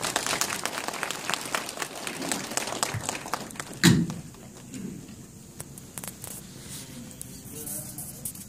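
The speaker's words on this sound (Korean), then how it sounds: "박수로 환영해 주십시오." Audience at a gathering claps to welcome a speaker, scattered patter-like applause that swells briefly near the middle with a sharp knock, then thins to sparse claps and room noise.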